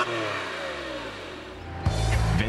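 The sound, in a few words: water-cooled Porsche 911 997 engine revving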